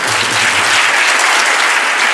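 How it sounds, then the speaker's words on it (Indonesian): Audience applause at a talk-show event on entrepreneurship, a dense steady clapping that fills the hall at an even, loud level throughout with no voices rising above it. "Tepuk tangan untuk Abah Sumardi."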